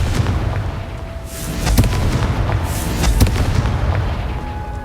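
A Confringo fire spell blasts in Hogwarts Legacy, a loud, rumbling run of fiery booms and crackling bursts that rolls on without a break and has no speech over it.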